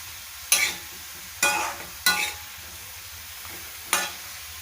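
Tomatoes sizzle in a hot frying pan as a utensil stirs them, giving four short scraping bursts over a steady faint crackle, close and alone with no talking.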